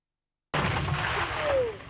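One heavy mortar of the Italian Garibaldi Brigade fires during the 1999 Kosovo operations. It comes as a single sudden loud boom after a brief silence, then a rumbling tail that fades over about a second and a half.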